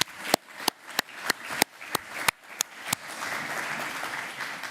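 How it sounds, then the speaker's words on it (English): Conference audience at the OECD Global Forum on Productivity applauds the organizers: a handful of loud, separate claps ring out in an uneven rhythm at first, then blend into a softer, steady wash of applause. "So also a great round of applause for them"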